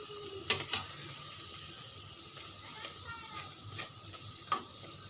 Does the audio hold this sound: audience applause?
no